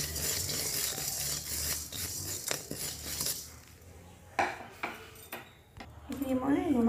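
Ingredients stirred and fried in a pan, with metal clinks and scrapes of a utensil against the pan over a soft sizzle, close by, with a voice talking near the end.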